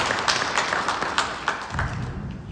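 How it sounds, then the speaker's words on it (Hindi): An audience at an RCM Old Age Security meeting gives a loud, sustained round of applause, a dense crackle of many hands that stays fairly even before thinning toward the end. "एक बार हमारे आरसीएम वालों के लिए जोरदार तालियां होनी चाहिए"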